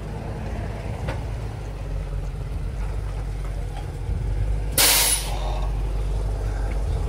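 A big tree-service truck pulls in over a steady low engine rumble, then gives a loud, sharp hiss of air brakes partway through, followed by continued idling.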